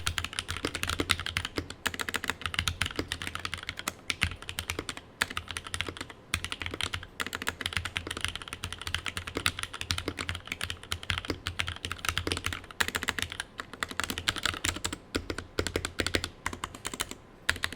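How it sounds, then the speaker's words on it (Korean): Continuous typing on a Ducky K330 mechanical keyboard fitted with Cherry Speed Silver switches, a dense steady stream of close, crisp keystrokes with no talking. "자, 스피드 은축의 경우 토러스가 없어서 K330으로 대신해서 들려드리겠습니다"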